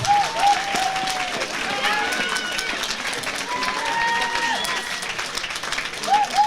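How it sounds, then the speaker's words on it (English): Crowd at an amateur boxing club home show applauds and cheers the boxers after a bout, a sustained wash of clapping with whistles and shouts, an announcer's voice over it. "And a big round of applause for Toby Cook from Inch Boxing Club"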